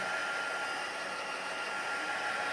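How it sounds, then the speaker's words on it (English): A heat gun blows hot air over wet ink in a craft project, giving a steady, even whoosh of airflow that holds constant throughout with no talk. "I'm just going to quickly zip over it with the heat gun"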